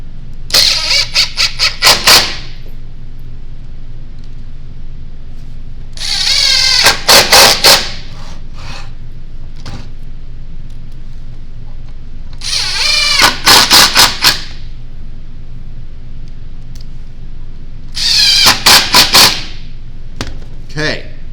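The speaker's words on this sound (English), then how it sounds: "Now I'm going to put screws in there, and we're almost done." A power drill drives screws into a wooden birdhouse, whirring in four separate bursts of about two seconds each with quieter room sound between them.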